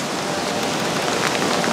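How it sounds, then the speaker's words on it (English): Steady rain pours down outdoors as the weather turns nasty, a dense, even hiss of drops on surfaces that stays loud and close throughout with no speech. "Oh, here comes the rain."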